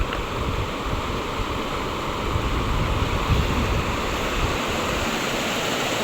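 A strong river current rushes past, a loud, continuous broadband roar of churning water with no break, close by and filling the scene.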